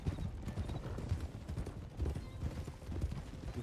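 An Arabian horse's hooves clip-clop steadily at a brisk pace, a dense, continuous, fairly faint patter of footfalls with no break.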